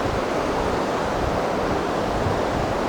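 River water flowing at Thurmond, West Virginia, running high after heavy rain: a steady, dense rushing wash with no pauses, close by and fairly loud throughout.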